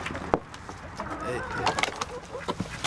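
Farm chickens cluck and squawk in short irregular bursts nearby, with other birds calling around them and a person talking over the flock.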